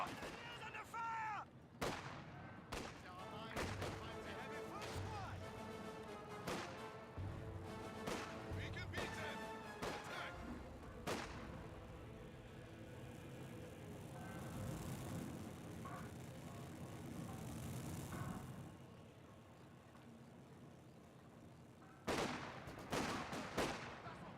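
Vickers machine gun fire in the Company of Heroes 2 video game, rapid bursts of shots mixed with heavier explosions and crashes across a busy battlefield, with short pauses and speech faintly underneath.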